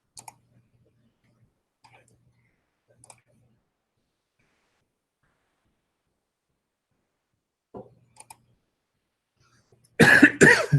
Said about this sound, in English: Seems to have a dry cough.